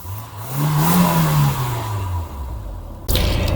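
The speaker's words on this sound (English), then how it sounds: "The short gear ratio keeps you constantly in the power band, and it's also fun to rev it up." Citroen BX GTi with hydropneumatic suspension revving up: the engine note swells to a peak, then falls back and settles into a steady running sound, ending with a sharp clunk, no voices.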